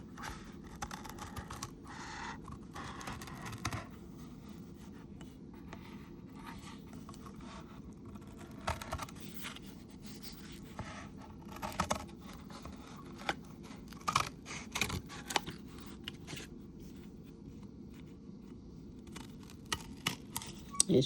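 Scissors snip around doll base material in quick, irregular bursts of close, crisp cuts with short pauses between, no talking.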